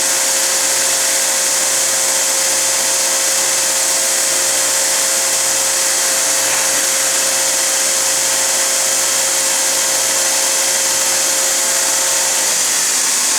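A homemade 2x48 belt sander runs steadily, giving a loud, constant motor whine and belt rush with a faint periodic low thump from the belt seam, and no voices.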